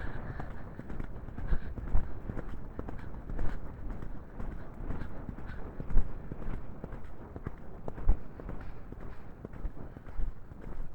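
Hooves of a horse named Farouk clip-clop at a walk during an autumn ride, with irregular footfalls spaced under a rustling, moderately close outdoor background.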